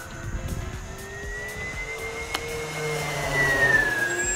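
X-fly Twin Otter 1800mm twin-engine RC model airplane gliding with throttle cut, a steady faint whine of propellers and airflow passing at a distance, gradually swelling slightly louder near the end, with no talking.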